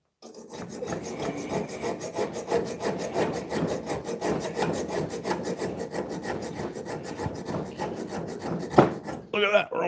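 A file and 120 grit abrasive rasp back and forth along a dagger blade in a fast, even rhythm of close scraping strokes, with one sharper knock near the end and no talking.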